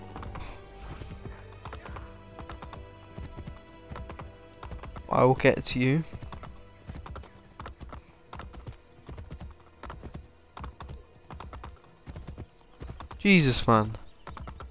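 Hooves clip-clop in a steady trotting rhythm as a horse is ridden in Assassin's Creed Brotherhood, with two loud whinnies breaking through and someone talking intermittently over the game sounds.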